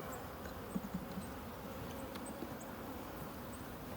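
Honey bees at the brood nest of an opened hive fill the air with a steady, soft buzzing drone, with a few brief louder bumps near the microphone and no voices.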